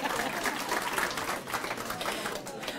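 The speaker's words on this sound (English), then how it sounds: "A special round of applause for them" Audience applause at a school board candidate forum, a steady dense wash of clapping from a room of people that holds at an even level throughout, with no break.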